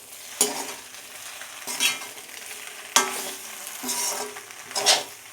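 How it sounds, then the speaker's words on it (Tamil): Sauce being stirred into egg pasta in a hot frying pan: a spoon scrapes in several uneven strokes over a steady sizzle, close and fairly quiet, with no voices. "இப்போ நல்லா கிளறிக்கலாம்"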